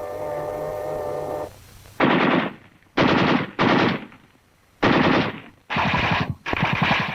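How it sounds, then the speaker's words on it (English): Rifle and automatic gunfire crack out in a WWII film battle against a German tank, arriving as several loud, close bursts separated by short pauses after a quieter opening stretch of background sound. "A carbine shot at the tank commander drives him down into the turret."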